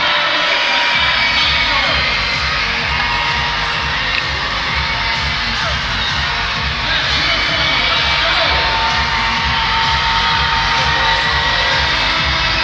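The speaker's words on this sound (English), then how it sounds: "lots of noise from the crowd here during this timeout" A loud, sustained roar of a basketball crowd cheering and shouting throughout a timeout at a London Lightning versus Windsor Express game in an arena, with whoops rising over the steady din.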